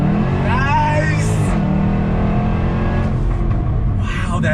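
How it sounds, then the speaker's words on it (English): A 2017 Jaguar F-Type SVR's V8 engine roars loud and close, a deep sustained rumble rising in pitch under hard acceleration, while an excited voice speaks briefly over it. "that sound of that V8 sounds like a bunch of long-range cannons going off"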